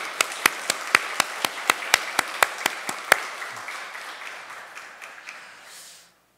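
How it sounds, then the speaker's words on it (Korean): A church congregation applauds to bless parents, starting with a dozen evenly spaced, sharp, unison claps that then loosen into a steady, fading round of applause before ending abruptly. "우리 기쁨으로 박수로 축복을 합시다"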